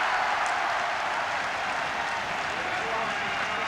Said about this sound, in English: the Finnish supporters have something to cheer with 9 minutes remaining